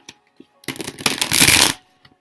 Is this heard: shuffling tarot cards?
yes